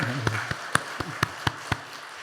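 Congregation applause at a Sunday church service: a short run of crisp, evenly spaced claps roughly a quarter second apart over a low background hum and faint murmur.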